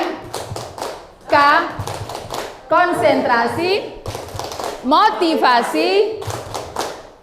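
Rhythmic hand claps in a group clapping chant, crisp taps in quick sets repeated at a steady beat, close, alternating and overlapping with chanted spoken words.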